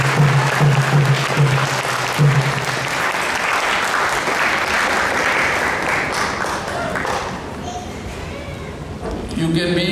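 Audience applause fills a Hare Krishna temple hall at an ISKCON Toronto event, a dense, steady wash of clapping that carries on for several seconds before thinning out, with a low voice briefly audible at the start and near the end.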